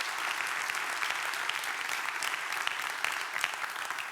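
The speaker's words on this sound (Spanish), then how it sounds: "pido un aplauso" Audience applause at a book presentation event in Colombia; steady, even clapping from many hands at moderate distance, continuing alone without talk throughout.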